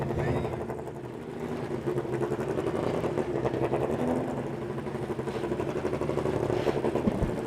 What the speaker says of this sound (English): You can hear the sound of those elite engines as they are coming up to speed, coming up to temperature